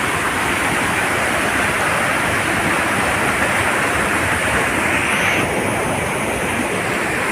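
Waterfall at Peechi in Thrissur, a broad, steady roar of falling water filling the whole stretch, loud and close with no letup or voices.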